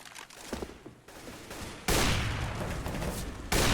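Dense bursts of rapid gunfire in the video game Counter-Strike on the Inferno map, an AWP sniper rifle among the weapons in a competitive match, forming continuous loud fusillades with a brief lull between bursts.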